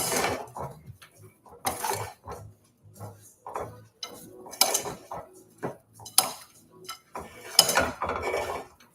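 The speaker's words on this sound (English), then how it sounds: "Then we can just shake it up. Give it a little mix." Vegan baklava ingredients are shaken and mixed in a container, giving a series of rattling, clattering bursts in an uneven rhythm with short pauses between them, close and moderately loud, with no talk.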